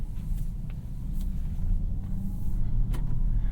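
A 2024 Aston Martin DBX 707 pulls away, its engine a steady low rumble from inside the cabin, with faint road noise and no talking.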